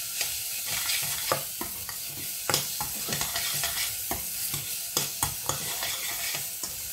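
Seasoned mushroom sauce made with dried mushrooms, stirred in a pan: a steady sizzle with a rapid series of spoon scrapes and taps against the pan, close and fairly loud, with no talking.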